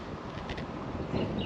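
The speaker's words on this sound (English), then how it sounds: "the wind's just blowing a little lure too far" Wind gusts buffet the microphone at Cockle Creek near Speers Point during fishing, a steady broadband rush with low rumbling, no talk.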